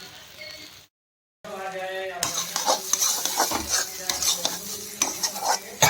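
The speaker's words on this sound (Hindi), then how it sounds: "अब इसको हम फ्राई करते हैं, थोड़ी देर हमें फ्राई करते रहने देना है इनको मिक्स करके।" Peanut paste with fenugreek frying and being stirred in a pan over medium heat for a Karnataka-style peanut eggplant masala, a soft sizzle with repeated scraping and clinking of a utensil against the pan after a brief silence.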